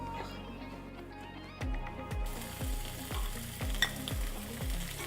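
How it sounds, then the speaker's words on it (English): Seasoned shrimp on a hot grill, a loud sizzle bursting up and then holding steady, with a regular series of low thumps and scrapes as pieces are set down and moved. "Let's go throw those on the grill. The grill is hot, time for scrimps."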